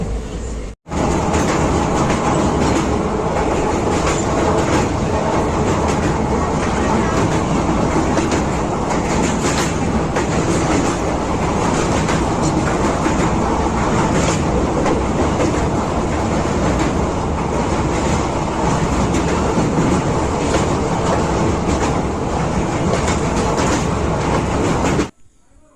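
A Puri Express passenger train running from Khordha rumbles loudly and continuously from inside a carriage, wheels clattering rhythmically over the rails with a constant roar throughout.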